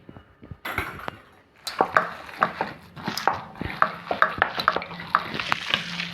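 A spoon stirs lentil vada batter in a bowl to work in salt, making a run of close, wet, sticky slaps and scrapes in a loose rhythm after a quiet start.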